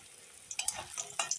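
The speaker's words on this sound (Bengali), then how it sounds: "এখন একই তেলে আগে প্রথমে বড়িগুলো ভেজে উঠিয়ে নেব" Lentil dumplings (bori) fry in oil already used for pabda fish, giving a soft, low sizzle with brief crackling pops that flare up in the second half.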